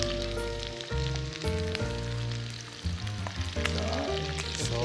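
Squid pieces deep-frying in hot oil for squid tempura, a steady close crackling sizzle under soft background music, with no one talking.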